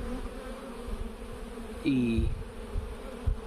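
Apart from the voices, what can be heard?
honey bees at beehive entrance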